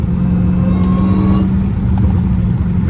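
A Dodge Hellcat Redeye engine revs hard in fourth gear, a loud, close, sustained deep roar with a steady growl and rising whine throughout.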